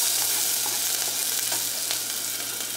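Garlic, onion, chile and tomato frying together in a hot pan: a loud, even, continuous sizzle close by, with faint crackles scattered through.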